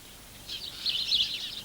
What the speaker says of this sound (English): Sparrows often make their nests in a hole in the wall or the roof of a house.